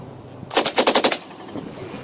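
An M60 machine gun test-fires at an outdoor military show, one loud close burst of about eight rapid shots, then quiet.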